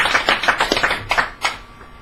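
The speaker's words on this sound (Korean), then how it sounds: "박수를 한 번 더 부탁드리겠습니다." A few people clap in a small audience at an education-reform gathering, with sparse, uneven claps at close to moderate distance that fade out after about a second and a half.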